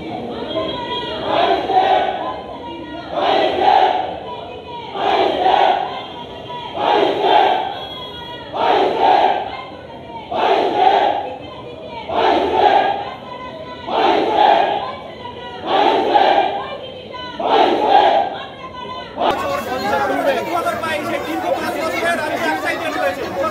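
A protest crowd of primary teacher-eligibility test (TET) qualifiers outside Bikash Bhavan chants slogans in a call-and-response rhythm, about ten loud regular shouted bursts followed by a surge of general crowd noise.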